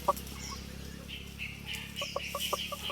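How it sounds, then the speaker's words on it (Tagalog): Brassback gamefowl stags cluck softly nearby in short bursts, with a few quick clucks bunched toward the end over low background hum. "na ito yung ating dalawang stag na brassback."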